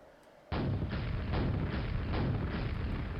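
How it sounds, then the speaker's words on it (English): Rocket launcher in a Quake-style game fires in a steady volley, a series of heavy booming blasts about every half second that start abruptly after a brief quiet moment, loud and close, no voices. "So here's a rocket."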